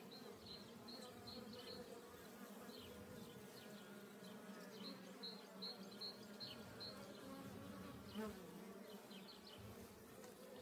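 Honeybees buzz steadily across a hive frame as a beekeeper prepares a queen-rearing setup, a dense continuous hum with a few brief louder passes of individual bees close by.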